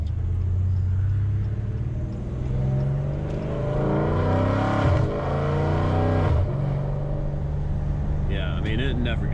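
A Dodge Challenger ScatPack with long tube headers revs hard in city driving, a deep, loud rumbling roar that swells and rises in pitch through a couple of throttle blips over a steady low drone.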